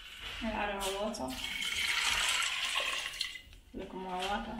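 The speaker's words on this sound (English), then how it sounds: "And add our water" Water pours steadily into a cooking pot with peas and garlic for a couple of seconds, close by, between bits of talking at the start and end.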